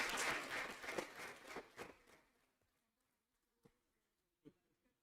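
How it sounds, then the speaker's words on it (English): Applause for a panel at a medical convention, brief clapping that fades out within about two seconds, followed by near silence broken only by a couple of isolated faint knocks. "A huge round of applause for the panel."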